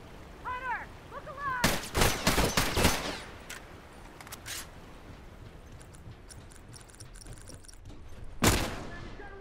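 Rifle gunfire in a video game: a quick cluster of sharp, loud shots near the start, two lighter cracks after a pause, then one final loud shot, with faint chirps and background noise in between.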